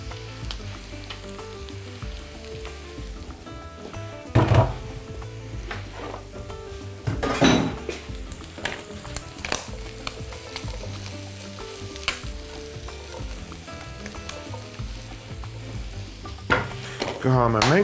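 Chicken hearts and mushrooms sizzle steadily in a frying pan, with loud scrapes and clatters of stirring at intervals over the constant crackle.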